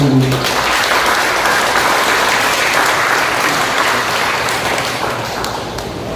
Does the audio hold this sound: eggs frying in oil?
no